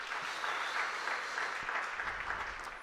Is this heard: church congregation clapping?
yes